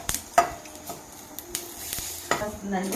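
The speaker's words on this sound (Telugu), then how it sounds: "పచ్చడి తాలింపు వేగుతుంది కదా" Soft sizzling of a tempering with garlic frying in oil for a chutney, broken by a few sharp clinks and scrapes of a utensil against the pan.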